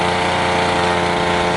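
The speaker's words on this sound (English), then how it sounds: "We got the engine, the donkey engine running." A small donkey engine on a Polaris crawler runs steadily, a loud, continuous mechanical drone with an even, buzzing hum and no pauses.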